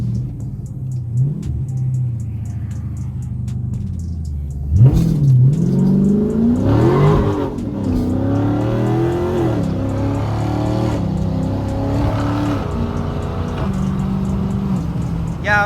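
A flame-tuned Dodge Scat Pack with a catless straight-pipe exhaust accelerates hard from inside the cabin, its loud engine rising in pitch through the revs and staying steady and close throughout.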